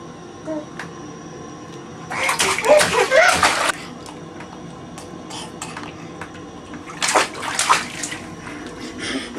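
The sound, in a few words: child splashing water in a bathtub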